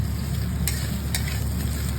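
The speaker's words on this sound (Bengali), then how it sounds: "এবার দিয়ে দেবো ছাড়িয়ে রাখা নিউট্রিলাগুলো। একটু তেলের সাথে নেড়ে নেব।" Nutrela soya chunks are stirred in hot oil for a vegetarian pumpkin dish, a steady close sizzle broken by brief scraping strokes of the spoon against the pan.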